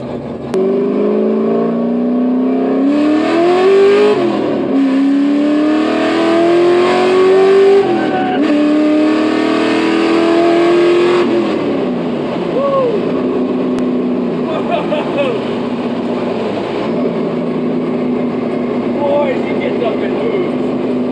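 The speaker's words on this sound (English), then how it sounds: "The car definitely rips." An LS-swapped BMW E46 accelerates hard on a bridge. The engine is loud and close, with revs climbing in repeated rising pulls separated by brief gear-change dips, then settling into a steady, rough drone.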